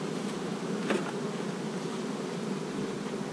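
Honey bees hum inside a small nucleus hive, a continuous close buzzing with a brief louder swell near the start, and no one speaking.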